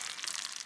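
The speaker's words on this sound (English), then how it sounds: "So now it's boiling." Brown sugar and butter boil in a pan on the stove, giving a steady, close hiss and fine sizzle with soft bubbling crackle and no voices.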